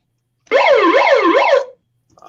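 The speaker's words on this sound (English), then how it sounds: "I even got a siren." A loud electronic siren sound effect wails in a quick rising-and-falling pattern for about a second, clean and alone, then cuts off abruptly.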